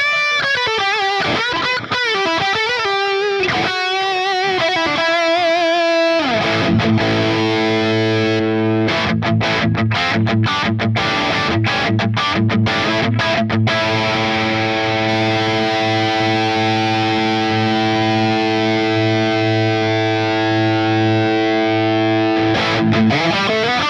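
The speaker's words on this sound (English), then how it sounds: "Let's turn on the tube screamer. Let's turn on the delay." Electric guitar run through a Tube Screamer overdrive and delay on a Helix modeler: distorted, driven playing with fast picked notes and choppy hits, then sustained ringing chords with echo trails, loud and continuous with no talking.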